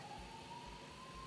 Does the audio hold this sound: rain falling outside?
no